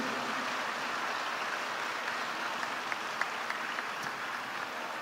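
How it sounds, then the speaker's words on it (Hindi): A crowd at a religious gathering claps together, a dense, even patter of applause at moderate distance, steady throughout with a few sharper claps standing out. "एक बार जोरदार ताली बजा के धन्यवाद दो।"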